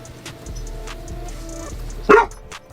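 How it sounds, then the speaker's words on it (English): A single dog bark in the video game Dragon Age: The Veilguard, one short loud burst standing out over a steady low game ambience and soft background tones. "Dog decided to bark."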